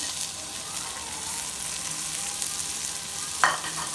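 Tomatoes and green chillies dropped into frying onions produce a steady, fairly loud sizzle that continues throughout, ending with a brief utensil scrape.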